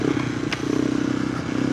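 A KTM 390 Adventure R motorcycle fitted with a Norifumi Whoops exhaust, dB killer still in, idling close by with a steady rapid single-cylinder thump and a brief clatter.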